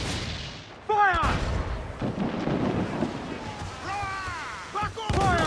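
Ship cannons fire and booms roll during a naval battle in Assassin's Creed IV: Black Flag, with heavy blasts and rumbling under shouted crew voices and battle noise.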